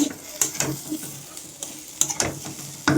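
Potatoes fry in a pan in a home kitchen, with a steady sizzle broken by repeated scraping and clinking strokes from a stirring utensil. The sounds are close and moderate in level, and no one speaks.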